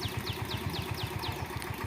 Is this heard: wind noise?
no